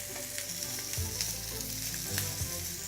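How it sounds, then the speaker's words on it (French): Spinach sizzles on a hot grill beside marinated Japanese-style chicken, a steady close crackle and hiss with small spatters and stirring scrapes, no voices. "On va simplement, regardez, mettre sur notre grill quelques épinards."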